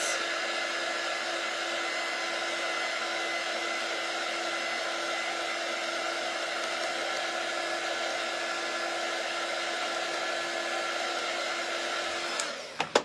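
A hair dryer blowing on a craft transfer, a loud, steady whirring hum for about twelve seconds that cuts off abruptly near the end, followed by a few small clicks.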